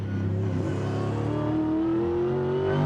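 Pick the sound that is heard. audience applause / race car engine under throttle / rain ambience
race car engine under throttle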